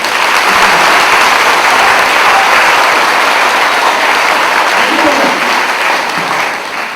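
Loud, sustained clapping from a large audience at a Hindi-language talk about children's futures, a thick continuous roar of hands with faint voices mixed in beneath it.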